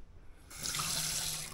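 Fresh water running from the galley tap aboard a Bali 4.2 catamaran: a brief quiet moment, then the faucet opens into a steady, close, hissing stream into the sink.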